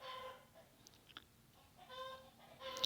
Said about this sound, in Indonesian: Ini maaf karena Pak Guru ada di rumah jadi banyak sekali suara ayam-ayamnya ya.